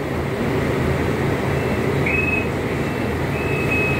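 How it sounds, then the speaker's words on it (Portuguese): A city bus in Goiânia approaching along a street, a steady broadband engine and road rumble with faint high whines, continuous and fairly loud with no talking. "Aí tá vindo outro ônibus ali"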